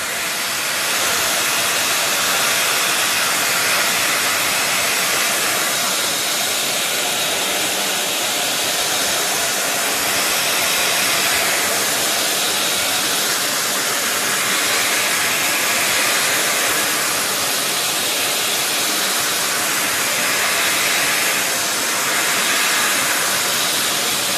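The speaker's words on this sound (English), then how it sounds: "And then you need a heat source, so I'm just going to use a hairdryer." A hair dryer roars with a constant, loud, breathy hiss of blowing air that holds steady for a long stretch without pause.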